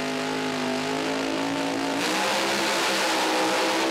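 A drag racing car makes a solo pass down the track, its engine a loud, continuous roar that climbs in pitch as it accelerates, with no other sound over it.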